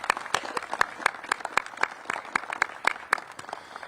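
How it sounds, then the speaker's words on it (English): A hall audience applauds principals at a DC city event, a steady patter of many hands clapping with sharp individual claps standing out, moderately loud with no talk over it. "Again, let's give all of our principals a round of applause."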